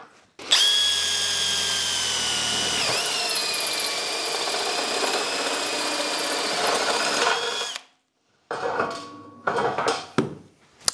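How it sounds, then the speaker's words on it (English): A Milwaukee installation drill fitted with a hole saw cuts a 20mm hole in steel, whining loudly and steadily for about seven seconds before stopping. A few brief clattering handling sounds follow. "So you can see it's pretty easy to drill steel with this"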